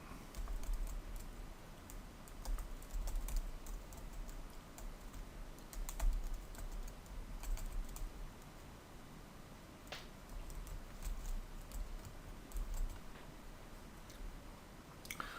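Fingers type on a computer keyboard in quick, uneven bursts of soft clicks, close and quiet, with brief pauses between runs of keystrokes.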